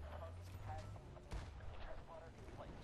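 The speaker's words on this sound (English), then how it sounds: "I have a tank shooting at me here as well." Tank cannon fire in the video game Battlefield Bad Company 2 comes through as quiet, distant booms and rumbling blasts under faint voice chatter.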